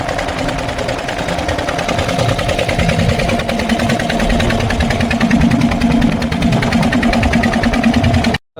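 A loud, steady fishing boat engine drones at an even idle throughout, with a constant mechanical chugging and no voices.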